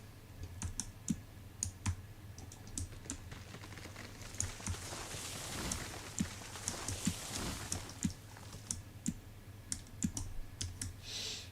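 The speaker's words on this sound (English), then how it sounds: "My keyboard is loud AF on purpose" A deliberately loud computer keyboard clacks in quick bursts of typing during a speed-typing game, crisp and close with irregular rhythm and short pauses.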